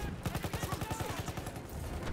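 Rapid submachine gun burst fire in the World War I shooter game Battlefield 1, a tight string of sharp shots in quick succession, steady and fairly loud, with no talk over it.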